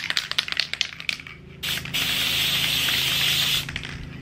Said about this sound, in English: I'm actually going to spray the tops of these lids